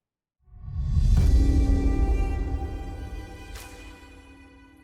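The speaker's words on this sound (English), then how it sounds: "your ears catch the sound of the wind blowing through the trees and the distant sound of crashing waves" Wind rushes through forest trees with a distant crash of ocean waves, swelling in from silence into a deep, loud roar that slowly fades, with a couple of sharp splashing bursts.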